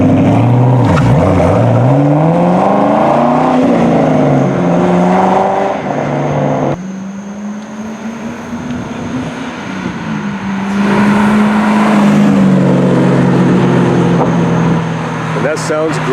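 A Trans Am WS6 with a chambered exhaust drives on the road, its loud, deep engine note rising and falling as it accelerates and shifts. One gear change leaves a brief lull before the throaty rumble builds again.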